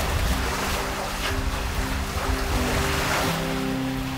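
Ocean waves wash against a sailboat out at sea on a calm, lightly windy day, a steady close wash of water with a low tonal hum from the boat underneath, no voices.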